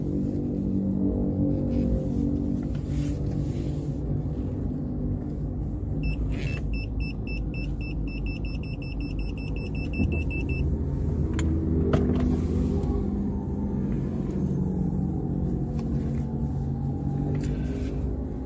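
A car is parked, heard as a steady low engine rumble from inside the cabin with a rapid electronic beeping pattern partway through and a few soft clunks.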